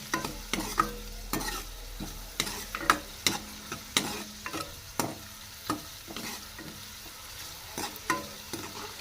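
Finely chopped onions fry in hot oil as a spoon stirs and scrapes the pan, giving repeated sharp clacks and scraping strokes over a soft sizzle, close by and with no speech.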